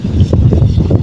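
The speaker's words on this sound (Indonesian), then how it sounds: "Mohon maaf suara anginnya gede banget ya." Strong outdoor wind buffets the microphone in rough, uneven gusts, a loud close roar for about a second with no voices.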